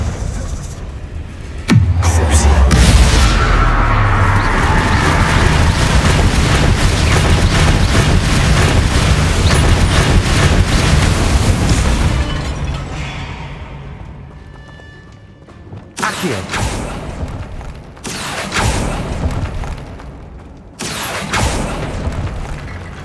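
A Confringo explosive spell goes off in Hogwarts Legacy inside a tomb: a loud, deep boom opens a long, roaring sustained blast that fades out, and several sharp, shorter impacts come after it.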